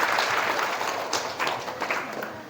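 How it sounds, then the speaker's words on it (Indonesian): A seminar audience applauding, dense clapping from many hands throughout, with faint voices mixed in. "Tepuk tangan untuk kita semuanya."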